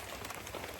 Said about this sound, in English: Every time it's raining